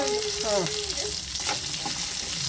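Onions fry and sizzle in a pan while being stirred for a North Karnataka red chutney, a steady close crackling with a faint voice and some clinks in the background.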